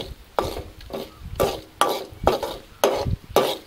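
Dried Byadgi chili pieces frying in hot oil for a buttermilk curry tempering, with close, repeated bursts of sizzle and stirring in a steady rhythm, no voices.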